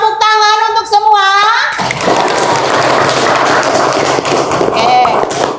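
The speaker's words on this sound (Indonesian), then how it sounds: "Tepuk tangan untuk semua." Classroom applause from a class of students, a dense burst of many hands clapping that rises after children's voices and holds steady for several seconds, loud and close with some chatter mixed in.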